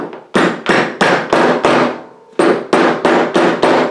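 Bearing cap being tapped into a bicycle hub with the back of a hammer, a run of nine sharp, loud knocks at a steady rhythm, with a short pause after the fifth blow.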